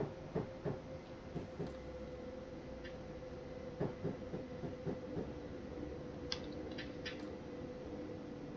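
A Class 455/8 electric train in Train Sim 2019 braking as it runs into a station platform: a steady hum and rumble with rhythmic clickety-clack wheel beats that slow and thin out, plus a few brief hisses near the end.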